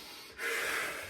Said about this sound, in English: I'm breathing out as I'm coming up with the dumbbell, in as I'm going down